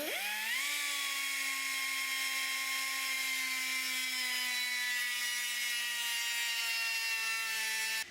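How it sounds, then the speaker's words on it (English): An air-powered cutoff wheel cuts metal while a Continental O-200 aircraft engine is installed, making a loud, steady high-pitched whine that rises quickly at the start and holds continuously before cutting off at the end. "We're going to use a cutoff wheel, air powered. Be sure to wear eye protection and just cut that right off"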